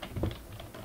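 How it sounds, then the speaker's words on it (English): A brief burst of computer keyboard typing as a username is entered, quick soft key clicks close up with no talk. "So here I'm going to put my username"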